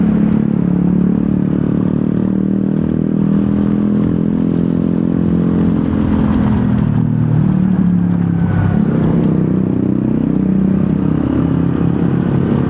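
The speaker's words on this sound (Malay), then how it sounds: "Okey, untuk motor ADX TG bising sangat lah." ADX TG 400 motorcycle engine running close by with a loud, large-bore exhaust, a steady low droning rumble that surges slightly in revs with some mechanical clatter throughout.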